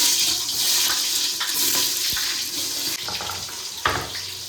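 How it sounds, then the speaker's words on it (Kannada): Onions frying in hot oil for biryani make a steady, close sizzle, with occasional stirring clatters and scrapes over the continuous hiss. "ಆನಿಯನ್ನ ಚೆನ್ನಾಗಿ ಡಾರ್ಕ್ ಗೋಲ್ಡ್ ಕಲರ್ ಆಗೋವರೆಗೂ ಫ್ರೈ ಮಾಡ್ಕೊಬೇಕು"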